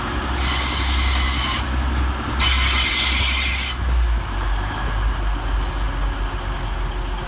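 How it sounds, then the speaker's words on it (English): A Transpennine Express class 185 diesel unit pulls into Sheffield station with a steady low rumble, and two long high wheel squeals ring out close by as it slows at the platform. "Next train in, arriving with the 1511 Transpennine Express service from Cleethorpes to Manchester Piccadilly is 185106"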